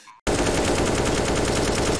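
Rapid automatic gunfire in a competitive video game shooter bursts in after a brief quiet moment and continues loud and dense to the end.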